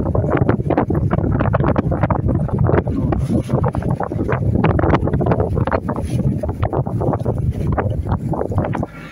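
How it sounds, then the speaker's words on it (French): A strong headwind buffets a sailboat heading north, roaring loudly and unevenly across the microphone in constant gusts, with water and hull noise beneath it. No one is talking. "Malheureusement, on a le vent pile de face."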